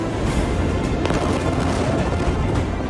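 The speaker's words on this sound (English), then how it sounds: "Massive explosion, that some described as like an earthquake" A massive explosion in news footage, heard as a dense, continuous roar that fills the whole stretch, loud and sustained without a clear single onset, with no speech over it.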